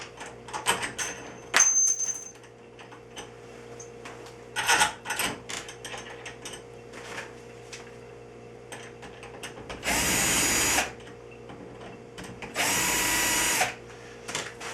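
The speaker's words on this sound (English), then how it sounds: "Purposely not over tightening these screws." A power drill or driver tightens screws while a Kwikset SmartCode deadbolt is installed, giving two sustained whirring bursts between scattered clicks and handling clatter of the lock hardware.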